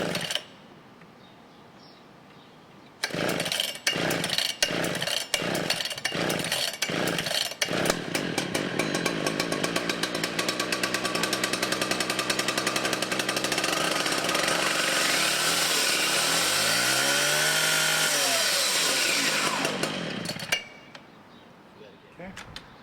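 Husqvarna K-960 ring saw, a petrol cutter, pulled over by several sharp starter tugs, then its two-stroke engine catches and roars loudly and steadily close by, with one rev rise and fall before cutting off.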